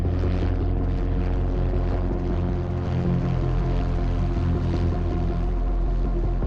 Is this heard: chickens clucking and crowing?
no